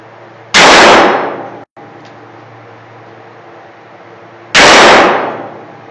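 Two loud, sharp gunshots fired downrange at a target at an outdoor shooting range, several seconds apart, each with a brief ringing decay over a steady background hum.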